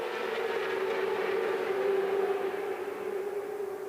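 Four Honda racing motorcycle engines, ridden by All Japan Road Race Championship riders at a Honda Racing Thanks Day event, drone together in a steady blended roar, sustained and fairly distant, without gaps or talk.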